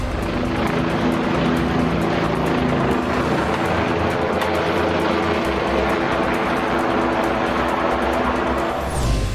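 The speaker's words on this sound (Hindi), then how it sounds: "इस दौरान मंदिर में श्रद्धालुओं पर हेलीकॉप्टर से फूल भी बरसाए गए।" A helicopter showering flowers over devotees at Kedarnath temple in Rudraprayag, Uttarakhand, roars loud and steady overhead, its rotor drone continuous throughout with no voices.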